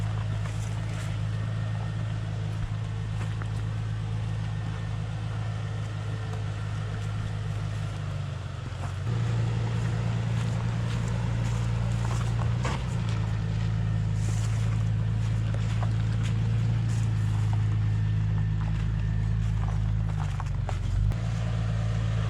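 A stock Jeep Cherokee XJ drives off-road, its engine droning loud and steady with a brief dip in revs partway through, under rumbling wind and rattles and no talk.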